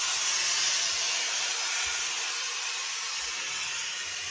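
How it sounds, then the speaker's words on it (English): Steam hisses steadily onto a fur felt trilby hat during restoration and brim blocking, a loud, continuous close-up spray with no voices. "Let's do a bit more steam."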